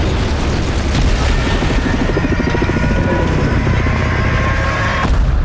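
Loud, dense booming and rumbling explosions with mechanical roar from Transformers sequel teaser footage, a continuous wall of blasts and mayhem with a sharp hit near the end.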